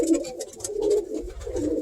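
Pigeons in a racing loft coo in low, rolling phrases, several overlapping calls swelling and fading close by with no talk over them.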